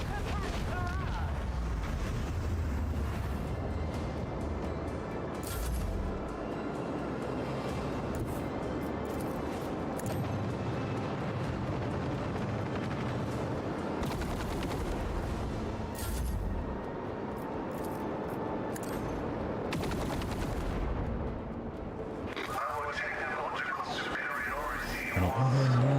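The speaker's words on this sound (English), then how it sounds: "Initiate macro cannon barrage." A macro cannon barrage in the space battle of Warhammer 40k: Rogue Trader thunders on for many seconds, repeated heavy blasts and rumbling impacts with sci-fi effects and game voice lines mixed in, loud and dense.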